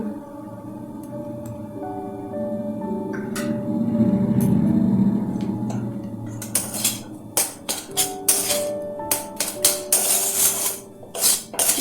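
Roasted spice mix being stirred in a pan for Mumbai-style vada pav, with a steady scraping rub at first, then sharp clinks and rasps of a metal spoon against the pan in a quick irregular rhythm, close and fairly loud.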